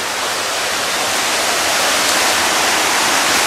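Cascade du Moulin du Saut gives off a loud, constant roar of falling water, a broad, steady rush with no voices and no breaks.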